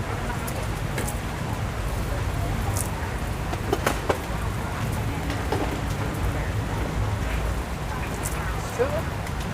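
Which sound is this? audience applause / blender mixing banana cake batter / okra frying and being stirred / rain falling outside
rain falling outside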